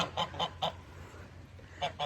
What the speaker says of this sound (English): geese are loud now